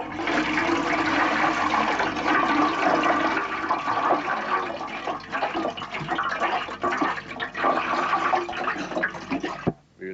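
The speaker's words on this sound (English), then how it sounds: "Open these barrels out and throw away the water." Water is poured out of barrels as a story sound effect, a loud, steady gush and splash that runs unbroken for about ten seconds before cutting off abruptly, with no voices.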